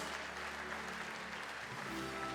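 A large crowd at an awards gala dinner claps steadily, a dense, continuous wash of applause heard from within the audience.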